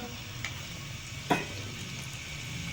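Onion, garlic and ginger frying over medium flame in a pan for sarson ka saag, a faint steady sizzle with a single soft clink partway through.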